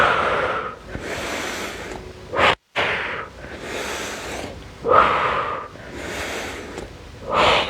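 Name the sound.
breathing during core Pilates exercise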